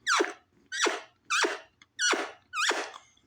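A voice imitates a baby alligator's call: five sharp, rising squeaky chirps in a steady rhythm, close and loud, with short silences between.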